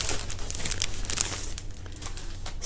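Cellophane wrapping for a hand-tied flower bouquet being handled, giving a steady, close crinkling and rustling with a few sharper crackles and no voices.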